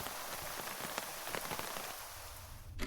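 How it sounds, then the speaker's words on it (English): Steady rain pours down in the turn-based game Terminus Last Escape, a dense, even hiss of drops on surfaces that carries on alone and cuts off near the end. "finally the rain stopped"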